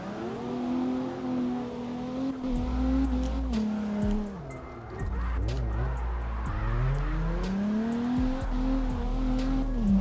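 A heavy drift car in a racing video game revs and slides, its engine note rising and falling with gear changes while tires squeal continuously through long drifts, loud and close with no talk.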